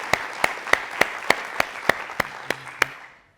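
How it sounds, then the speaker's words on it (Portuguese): Sharp, evenly spaced single claps, about ten in a row at a brisk steady rhythm, close and distinct during a live event introduction. A low voice sounds briefly toward the end. "Salva de palmas"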